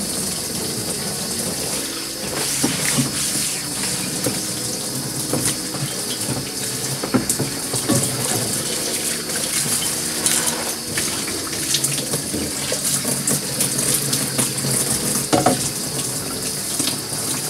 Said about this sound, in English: Rinse it good. Rinse it out.